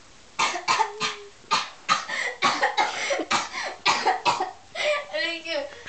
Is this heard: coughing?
yes